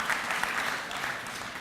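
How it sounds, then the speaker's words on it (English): Applause at a library literacy event honoring a state senator, a steady wash of hand clapping from a seated audience, moderately loud and continuous with no talk over it. "Give him a round of applause."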